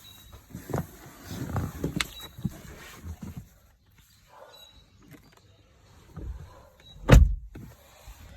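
Electric rear blinds in a 2018 Mercedes-Benz E250 Avantgarde give off a faint, thin motor whir in a quiet cabin. Soft clicks and rustles surround it, and a heavier thud comes near the end.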